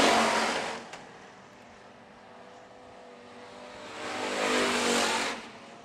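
IMCA Hobby Stock race cars roar past on the dirt oval at Phillips County Raceway, engines swelling loudly near the start, dropping to a distant drone, then rising again as another pass comes through.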